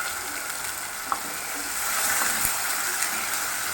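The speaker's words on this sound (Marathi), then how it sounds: "हे वाटण आपल्याला छान भाजून घ्यायचं आहे तेलामध्ये" Ground masala paste fries in oil in a kadhai for matar paneer, a steady close sizzle broken by a few sharp clicks and scrapes as it is stirred, the frying growing a little louder toward the end.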